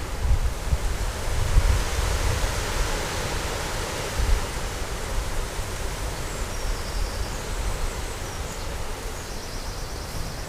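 Cool wind blowing outdoors in the shade on a sunny day, a steady, broad rushing roar with gusty low buffeting against the microphone and no talking.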